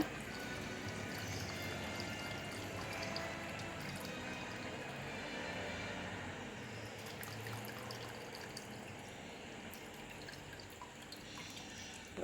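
Tamarind broth for a fish stew poured into a pot over a wood-fired stove, a steady liquid splashing and trickling that runs evenly and fairly loud throughout, with no talk.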